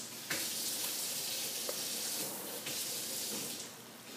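Garlic, about eight cloves, and meat searing in an uncovered pan: a steady, close, broadband sizzle and hiss running throughout, with a few sharper pops and spits rising out of the crackle.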